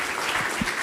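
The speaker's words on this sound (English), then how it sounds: "Please give Pak Prabowo rounds of applause." Audience applause at a foreign policy talk in a hall, a steady wash of clapping from a crowd filling the whole short moment, no voices over it.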